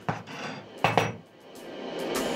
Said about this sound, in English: Finely mince my coriander.